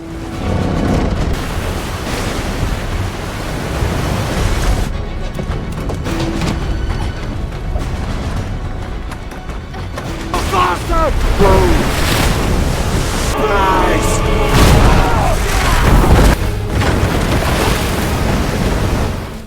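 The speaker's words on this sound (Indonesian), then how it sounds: "Badai lautan yang begitu mengerikan serta kilat yang menyambar" A stormy sea crashes and surges around a ship, with loud churning waves and gusting wind rising and falling throughout, and heavy rumbling bursts through the middle.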